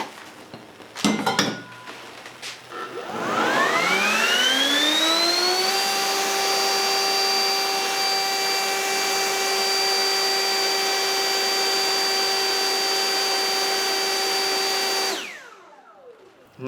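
A level-3 wind machine roars steadily for about twelve seconds, its whine rising in pitch as it spins up, blowing hard on a burning fire starter and storm-proof matches, after a few brief clicks and taps.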